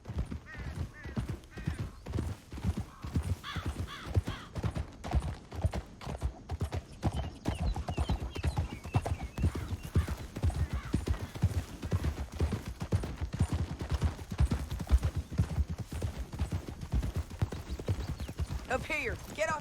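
Rapid, steady hoofbeats of several horses galloping in Red Dead Redemption 2, loud and continuous throughout, with faint voices and a whinny in the mix.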